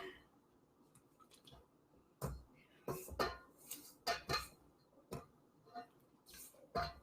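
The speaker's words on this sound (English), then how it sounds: "We're going to start with just a little bit of it and slowly stir it in." Soda bread dough being stirred slowly in a bowl, with a spoon clinking and scraping at irregular intervals between quieter thick, squishy mixing, close and moderately loud.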